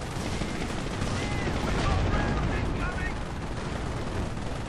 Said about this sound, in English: Tons of artillery. These mortars coming down here.